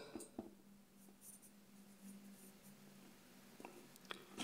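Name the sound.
sharp HB graphite pencil drawing on paper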